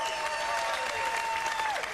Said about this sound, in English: gets generous applause